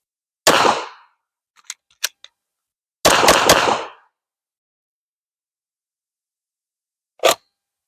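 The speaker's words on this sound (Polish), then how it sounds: "Jeden strzał i trzy kolejne strzały." Firearm shots during a shooting practice drill: a single sharp, loud report, then after a pause a quick cluster of three more shots with ringing decay. A few faint clicks fall in between, and one more isolated bang comes near the end.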